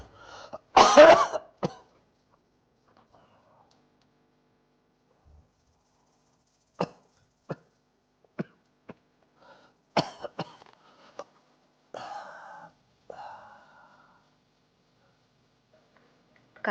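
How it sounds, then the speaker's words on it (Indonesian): A burst of harsh coughing from a man near the start, followed by scattered short clicks and a few brief coughs or throat sounds spaced out over quiet background. "Batuk-batuk terus."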